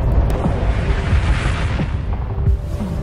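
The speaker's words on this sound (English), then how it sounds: "Each one of these explosions being roughly 6 times more powerful than the bombs dropped on Japan at the end of World War II." Deep rumbling booms of nuclear warhead explosions from submarine-launched missiles, a continuous heavy low roar with rolling blasts across the whole stretch, loud and dense with no talk.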